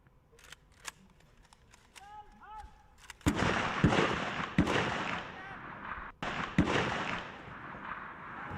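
Small arms gunfire at an army cadet training academy: several sharp reports ring out, then a dense stretch of loud overlapping shots with echo, one or two isolated cracks near the start.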